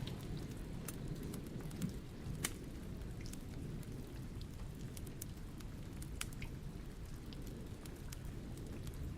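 Steady rain falls across the whole stretch, a dense continuous patter with a few sharper drop hits standing out, even and close, with no voices.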